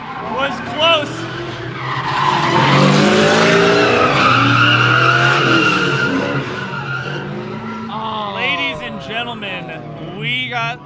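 Cars drifting at a drift event, including a Miata, with loud sustained tire squeal and skidding over engine roar, sliding pitches rising and falling, while commentators talk excitedly over the action.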